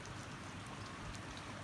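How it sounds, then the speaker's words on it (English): Steady rain falling in Australia, a dense continuous hiss of drops on wet surfaces with scattered louder drips, even and unbroken throughout with no voices. "We have rain in Australia from few days, and we can see the water everywhere"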